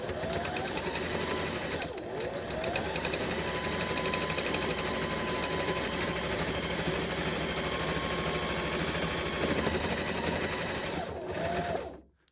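A sewing machine runs steadily and loudly, stitching a reusable shopping tote. The motor hum is continuous for about eleven seconds, with a brief dip near the start, then stops abruptly.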